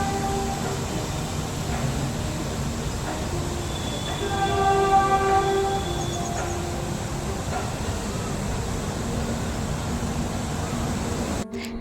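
A metro train passes outside a window in Mumbai at dusk, a steady rolling rumble that holds throughout and swells slightly midway as the train goes by at moderate distance, with brief tonal squeals.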